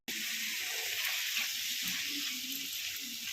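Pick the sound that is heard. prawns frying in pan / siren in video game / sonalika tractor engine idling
prawns frying in pan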